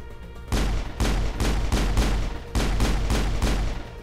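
Rapid bursts of gunfire in the video game Mass Effect, loud repeated volleys in quick succession, with a short gap in the middle, and no talking.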